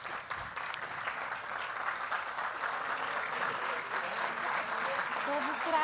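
Standing audience at a literary event claps warmly for the honoured curators, steady applause building slightly over several seconds with some voices mixed in beneath.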